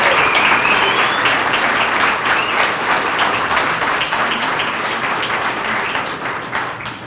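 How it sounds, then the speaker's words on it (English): Sustained applause from an audience at a Grove City chamber of commerce dinner, a dense wash of many hands clapping steadily, fading slightly toward the end. "please join me in applauding them for all of their hard work and their leadership"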